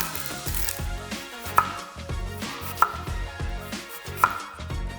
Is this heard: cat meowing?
no